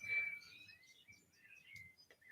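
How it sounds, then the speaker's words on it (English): Faint countryside birdsong in the distance, a few thin chirps and whistles scattered across a quiet outdoor background. "You may hear the birds in the background as I live out in the countryside."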